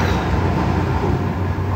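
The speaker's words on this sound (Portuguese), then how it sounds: "para de fazer barulho aí, ô. Trem." A train rumbles past close by, a loud continuous roar of wheels and rail noise that fills the whole moment with no break.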